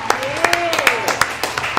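Scattered applause for a trivia team during a virtual trivia event, a few sharp, uneven claps repeating over a couple of seconds, with a voice talking through them.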